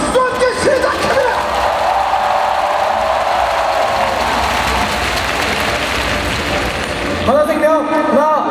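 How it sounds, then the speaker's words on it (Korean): A crowd at an esports event claps and cheers as a match begins, broad applause swelling under loud shouted commentary and excited voices. "여러분 박수 함께 시작합니다."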